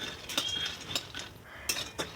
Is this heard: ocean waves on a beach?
no